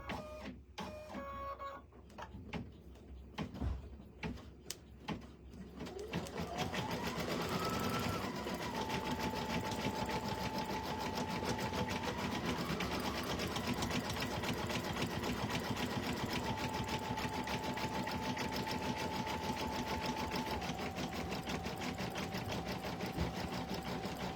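An embroidery machine stitches out a stuffed toy, running at high speed after a few clicks and starts, with a dense rapid mechanical whir and a steady tonal hum that shifts pitch now and then.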